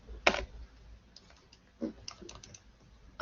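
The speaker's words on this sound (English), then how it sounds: "And I can type that in." A few scattered keypresses on a calculator or keyboard while entering a law-of-cosines calculation, isolated clicks with quiet gaps between them, close but soft, no talking.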